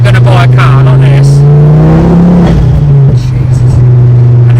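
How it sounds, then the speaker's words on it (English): A Ford Focus ST MK2 with a hybrid turbo and a loud exhaust revs hard nearby, its booming engine note rising and then settling, with someone talking over it. "have this exhaust on it, like, get yourself some ear defenders because it's so loud"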